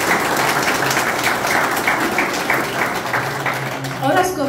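Clapping from New Year's Eve party guests at a gathering in Stąporków, a dense, steady crackle of many hands lasting throughout, with crowd noise and voices mixed in.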